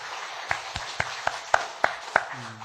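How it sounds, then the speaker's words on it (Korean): Sparse, separate claps from a church congregation at a Sunday worship service, for the choir, spaced about a third of a second apart over a soft room hum, with a brief tone near the end. "우리 성가대 위해서 한번 박수 한번 해드릴까요?"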